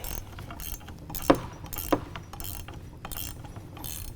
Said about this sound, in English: this is where having a ratcheting wrench or socket is very helpful